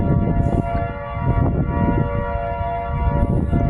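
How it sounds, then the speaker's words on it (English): Civil defense tornado sirens wail steadily and loudly during a tornado touchdown in Hastings, their sustained tones filling the whole stretch without talk. "Sirens are still going off."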